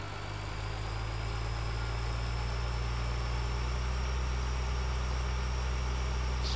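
A tractor engine in Farming Simulator 2013 runs steadily with a deep, bassy drone and constant low hum, unbroken and fairly close throughout.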